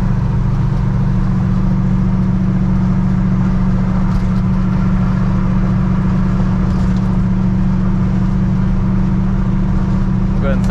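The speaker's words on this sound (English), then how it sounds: "And we're cruising about 50 mile an hour. I would say, judging by my ear, probably around 2000 RPM." A 1932 Ford Coupe engine cruises at about 50 mph and roughly 2000 RPM, a steady, even low drone with road noise that holds throughout, while someone talks over it.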